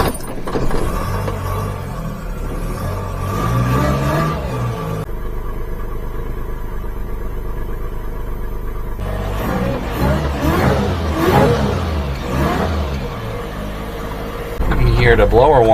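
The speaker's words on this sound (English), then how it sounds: "Hear the blower whine a little better." A supercharged mini-truck on a test drive, its engine humming with a high blower whine over steady road rumble and changing engine pitch. A voice talks over parts of it.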